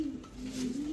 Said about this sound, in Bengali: অরিজিনাল রেসার কবুতর।